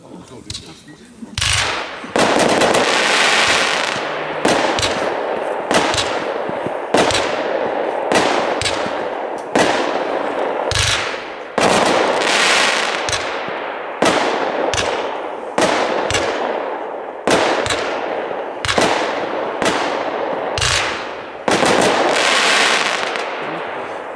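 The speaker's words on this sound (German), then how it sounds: "der dritte Artikel der Serie Black Hat Neon ist der Artikel State of Shock, eine 25-Schuss-Batterie" A State of Shock 25-shot fireworks battery from the Black Hat Neon series fires from about 50 metres away, with a rapid run of loud, sharp bursts and crackling tails one after another for the whole stretch.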